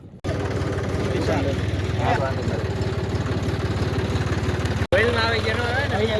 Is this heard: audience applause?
no